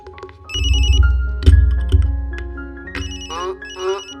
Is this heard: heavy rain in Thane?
no